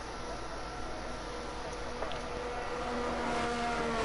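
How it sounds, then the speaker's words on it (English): A Formula 2 car in the F1 22 racing game pulls out at the Azerbaijan Grand Prix, giving a steady, distant engine drone under a wash of background noise that swells slightly toward the end. "There's a car going out now."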